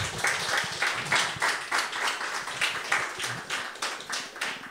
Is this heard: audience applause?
yes